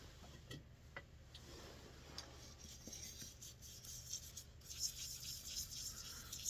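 A cloth rag rubs shellac into a wood-turned decorative dish on a lathe, giving a soft, steady scrubbing texture that runs throughout at low level, close by, with no speech.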